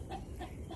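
A dog pants rapidly and rhythmically, close by, in a short burst.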